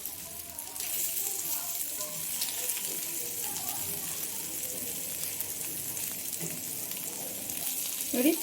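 Masala-coated fish fries on a hot tawa in beach-style fashion, giving a steady broad sizzle that runs throughout, with faint kitchen clatter and a slight swell of noise near the end.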